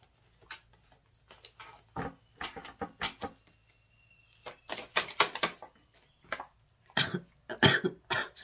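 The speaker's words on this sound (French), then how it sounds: "Ça me fait tousser, c'est bizarre." A person coughs repeatedly in short, dry bursts, some clustered and some spaced apart, fairly close and clear in an otherwise quiet room.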